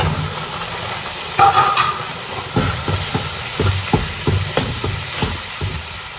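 Chopped tomatoes go into a sizzling pan for Faisalabadi beef vegetable pulao, with a steady frying hiss, a sudden louder crackle as they land, then rhythmic stirring clanks close by.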